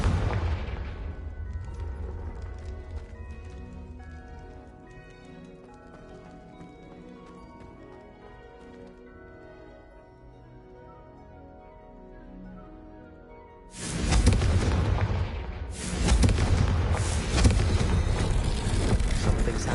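A Confringo fire spell in Hogwarts Legacy erupts into loud explosive blasts after a quieter stretch of game ambience, with the booms coming in a sudden burst and a second strong wave.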